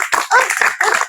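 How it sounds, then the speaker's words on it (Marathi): An audience claps for two dancers at a Marathi school event, a dense burst of hand claps that swells and dips over a second without pause. "सगळ्यांनी दोघीसाठी टाळ्या वाजवा."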